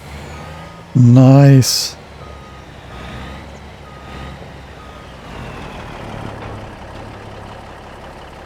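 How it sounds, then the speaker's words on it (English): Reversing beeps sound from a classic Mack truck in the Farming Simulator 25 video game. A loud beeping burst comes early, over a steady low engine idle. A single brief spoken word is heard. "Good old classic Mac. It's even got the torque thing going on."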